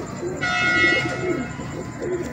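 A golden pigeon coos close by with a soft, low, rounded call lasting about a second, over light background hum.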